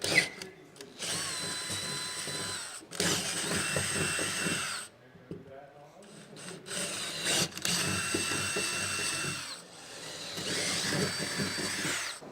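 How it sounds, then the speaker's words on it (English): A power drill with a 5/8-inch bit whines in repeated bursts, spinning up and biting into material several times with short pauses between runs, enlarging holes for a rack on a Jeep Gladiator. "grab your 5/8 drill bit, and we're going to need to enlarge all of the holes we just drilled"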